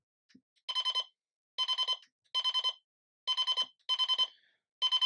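A bedroom alarm clock's built-in speaker beeps in repeated bursts of four rapid electronic tones, each group separated by a short pause, loud and clear with no talk.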